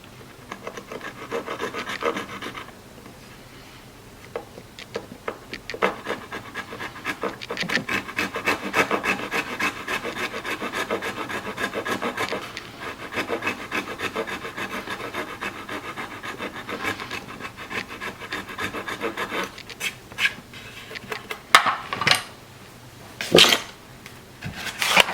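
Trimming the ends of old stage floorboard wood for a guitar build gives a long, steady rasping and rubbing of a tool on wood, close and continuous, broken by a few sharp knocks and scrapes near the end.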